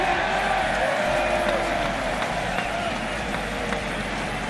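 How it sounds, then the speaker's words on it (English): Baseball fans at a Milwaukee Brewers versus Chicago Cubs game let out a broad, steady crowd roar that sounds like a half-hearted cheer, running throughout under a commentator's voice. "Cubs fans with a sarcastic cheer."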